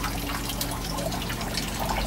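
Water pours steadily into an aquaponics bell siphon with a roughly five-inch standpipe, part of a home installation in Abu Dhabi, making a continuous, close, splashy rushing flow with no voices.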